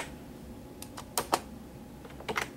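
Quiet keystrokes on a computer keyboard while text is entered at a DOS prompt: a few isolated clicks, then short clustered bursts of typing, close and soft.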